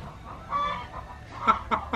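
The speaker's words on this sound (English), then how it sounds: "Shop Chicken is back to lay another egg." A chicken inside a workshop clucking while laying an egg, soft low murmurs followed by three sharper, louder clucks in quick succession near the end, fairly close with faint room noise.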